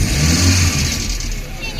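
An Activa scooter engine revs up close, a loud buzzing rise and fall over a couple of seconds, with people's voices mixed in.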